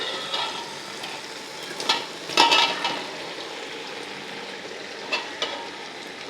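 Prawn biryani masala being stirred in a home pot, with a soft sizzling bed broken by a few scraping stirs and clinks, one louder stir near the middle, fairly close and with no talk.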